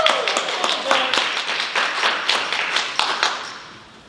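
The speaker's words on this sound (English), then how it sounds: "So I need y'all to give George P. Brooks a round of applause" A room of people claps and cheers for George P. Brooks being welcomed as a speaker at a mental health event, a fairly close burst of individual claps that thins out and fades toward the end.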